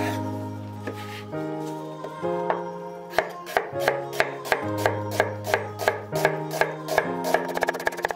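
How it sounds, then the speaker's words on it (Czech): Red onion finely chopped with a knife for a cracklings spread, a steady series of crisp board taps that starts slowly and quickens into a brisk rhythm, close and clear over a sustained tonal background. "Nakrájíme si ji najemno."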